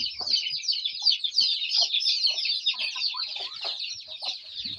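Aseel roosters cluck and squawk close by inside a basket, a busy run of overlapping high calls with rustling and scuffling beneath, and no talk.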